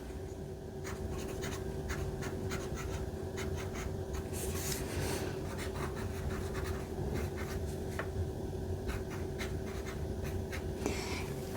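A fountain pen with a medium nib, filled with Diamine Firefly ink, scratches softly across paper in short repeated strokes, close and quiet over a faint steady hum.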